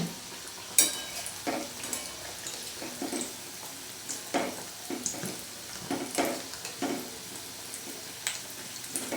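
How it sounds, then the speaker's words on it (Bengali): Potato pieces fry in a pan of oil while cooking aloo dum, a steady sizzle broken by sharp scraping and stirring clicks, close and fairly loud throughout with no talking. "লাল করে ভেজে নিয়েছি। এখন আমি এইভাবে বাদ বাকিগুলো ভেজে নেব।"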